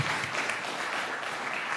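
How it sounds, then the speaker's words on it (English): Audience at a talk gives a round of applause: a dense, even wash of many hands clapping, steady throughout and moderately loud, with no single claps standing out. "Let's give him a round of applause for that."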